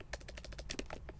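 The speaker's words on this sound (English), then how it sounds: "and then we type some password" Quick, close clicking of computer keyboard keys as a password is typed, a rapid run of about a dozen light taps in just over a second.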